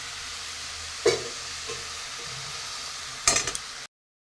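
Beto greens frying in a pan, with a soft steady sizzle and two sharp scrapes of a utensil stirring against the pan, then a sudden cut to silence.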